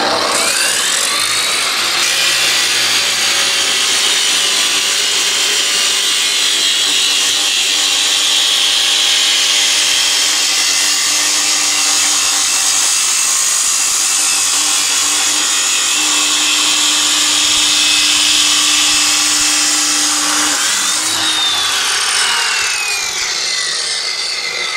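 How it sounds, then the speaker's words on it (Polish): A power saw cuts steadily through the last wooden element of a fence panel outdoors, a loud continuous whining buzz for about twenty seconds that spins down at the end. "Dobra, to tniemy ten ostatni element."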